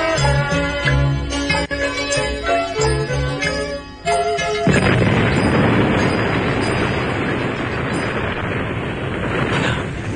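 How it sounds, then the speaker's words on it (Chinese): Cannon fire sound effect in a Cantonese radio drama: a few seconds of music give way to a loud, sustained, roaring blast that rumbles on steadily to the end. "又有大炮声啦，系唔系又有海贼嚟啊？"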